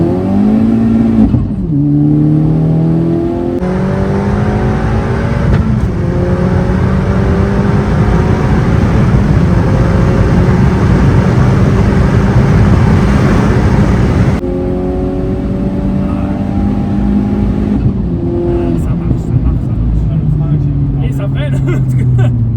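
A VW Golf 5 GTI Stage 4, a tuned 2-litre making 523 hp, accelerates hard, its engine climbing loudly through the revs with audible gear shifts, heard from inside the car and steady throughout.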